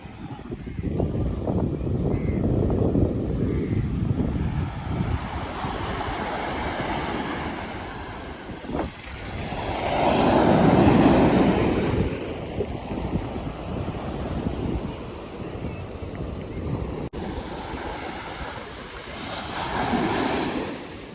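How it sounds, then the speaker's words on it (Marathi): Waves break on black-sand Arnala beach near Virar, a loud, continuous surf roar swelling and easing in slow surges, with heavy wind buffeting the microphone. "आणि आपण बघू शकतो इथे सुंदर असा बीच आहे।"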